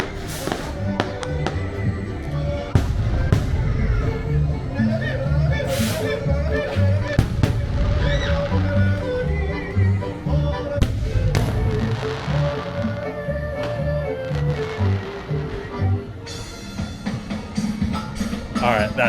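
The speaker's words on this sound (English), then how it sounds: "You can see the fireworks still in the background" Fireworks burst over a Disney theme park during Mickey's Not So Scary Halloween Party, heard from a stopped ride: a steady stream of thumps and crackles under crowd noise, with people talking throughout.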